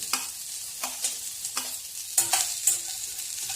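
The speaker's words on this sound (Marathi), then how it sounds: "आता त्याच्यामध्ये खोबरं टाकू। खोबरं पण लाल होईपर्यंत चांगलं परतून घेऊ।" Grated coconut roasting and being stirred in a pan with browned onion, giving a soft sizzle under repeated scraping strokes of a spoon, close and fairly quiet, with no talk.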